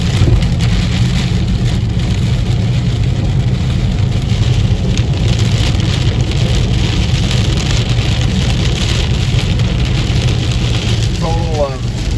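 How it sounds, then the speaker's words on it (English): Heavy rain drums hard on a car's roof and windshield during a late-night thunderstorm on the road between Waco and Fort Worth, Texas; a loud, dense, unbroken roar that stays constant throughout. "It was more than 10 minutes of a sheet of rain, but now it's starting to calm down a little bit."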